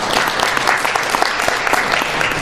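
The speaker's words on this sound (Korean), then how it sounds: "박수 먼저 주시면 감사하겠습니다." Close, steady applause from a fire investigation conference audience after a presentation, crisp individual claps blending into a continuous round.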